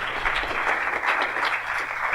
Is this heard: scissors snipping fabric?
no